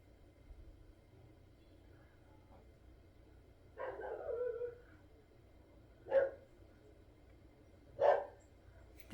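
Dogs bark from a distance near a garden courtyard, a few single barks spaced several seconds apart over a quiet background.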